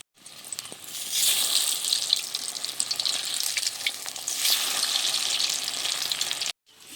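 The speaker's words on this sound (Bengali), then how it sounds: "এগুলো বেশ সুন্দর করে ভেজে নেবো লাল করে" Flour-and-potato snacks deep-frying in hot oil give off a steady, close, bright sizzling crackle with fine popping bubbles, continuing without a break for about six seconds before cutting off abruptly, with no talking.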